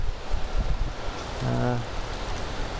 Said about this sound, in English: Also very windy today.